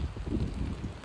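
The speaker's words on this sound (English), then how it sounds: "Still lots of rain coming down here at the Rylee Ranch" Steady wash of rain with gusting wind buffeting the microphone, a continuous noisy roar with no voices.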